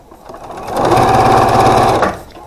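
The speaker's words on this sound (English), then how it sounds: "Just sew all of these pieces onto the piece" A sewing machine stitching quilt block pieces together, one steady mechanical run of about a second, loud and close, rising and stopping cleanly with no speech.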